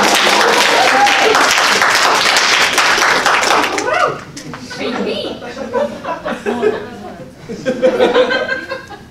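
Audience clapping at a literary reading event, loud and dense at first, then thinning into scattered claps with light chuckling and laughter mixed in.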